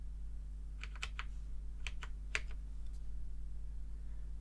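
Scattered keystrokes on a computer keyboard, a few quick clusters of clicks then isolated taps, close and moderately quiet over a steady low electrical hum, no voices.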